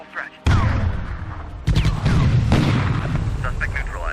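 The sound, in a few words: gunshots in video game Police Quest: SWAT 2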